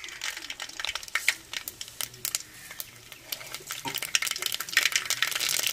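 Mustard seeds frying in hot oil in a pan for a Tamil fish curry, a busy crackle of rapid pops and sizzling spatter, fairly close, with a brief faint voice underneath.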